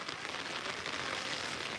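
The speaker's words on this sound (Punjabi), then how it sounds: "ਬਈ ਅੱਜ ਮੀਂਹ ਪੈ ਰਿਹਾ" Rain falls steadily as a dense, even hiss of drops on surfaces, close and continuous with no voices.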